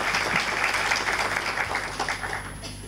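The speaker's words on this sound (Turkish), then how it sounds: "sizden bir alkış almak istiyorum" A roomful of attendees at a Bursa accountants' chamber assembly meeting applauds, dense continuous clapping that holds steady before easing slightly toward the end.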